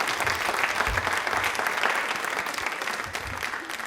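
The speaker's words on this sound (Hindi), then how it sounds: "तालियां एक बार अन्ना राजम मल्होत्रा जी के लिए जोरदार होनी चाहिए।" An audience at a televised quiz event applauds steadily, a dense, even wash of clapping that holds at a moderate level throughout.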